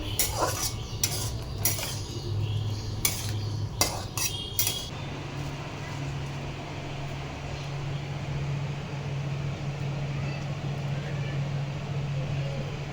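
Chicken being stirred and sautéed in a pan, with sharp metallic spoon clanks against the pan in the first few seconds, then a steady low sizzle and hum continuing alone.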